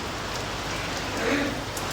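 Steady, dense rain pouring down, a constant hiss of drops hitting surfaces close by, with no pauses.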